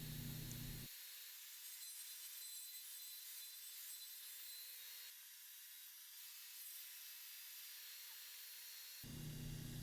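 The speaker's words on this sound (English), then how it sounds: "The tabletop is made up of 1 3/4 inch wide boards that I'm ripping from an 8-foot long cedar 1x6." Table saw ripping an 8-foot cedar 1x6 into narrow tabletop boards, a steady loud whine running through the clip with a brief dip partway as the cut pauses, machine noise alone with no talk.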